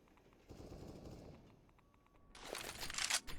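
Gunfire in the video game Counter-Strike: Global Offensive during a tournament match, a burst of rapid shots rattling out, faint at first and then louder and sharper toward the end.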